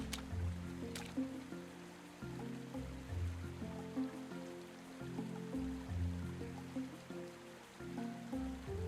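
Rain falls in the video game Roots of Pacha, a steady soft hiss spread under looping, tonal game music, with no talking throughout.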